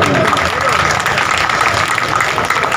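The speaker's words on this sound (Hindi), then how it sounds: "इनके लिए एक बार जोरदार ताली बजा दी" Crowd applause at a blood donation camp in Kolkata organised by a social welfare society, steady dense clapping filling the whole stretch, loud and close.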